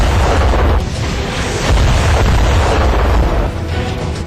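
Explosions from an Iraqi air force strike on a convoy of fleeing ISIS fighters rumble as loud, dense booms and blasts that keep rolling without a break.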